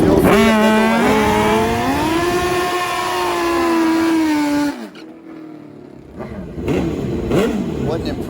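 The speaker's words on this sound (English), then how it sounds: "it was once again 2 NITROUS Oxide GS Pro Mod bikes" Two nitrous oxide GS Pro Mod drag racing motorcycles in a final round, a loud, high, droning engine note rising in pitch before cutting off abruptly, then quieter crowd and track noise with a voice talking.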